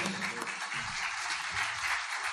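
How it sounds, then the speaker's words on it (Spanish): Audience applause at a lecture in a town hall setting, a steady wash of dense clapping heard at a distance and fairly faint, lasting only a couple of seconds. "Un fuerte aplauso para Pablo"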